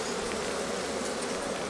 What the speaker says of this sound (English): This ball of bees is just bees that exit the hive because it's too hot.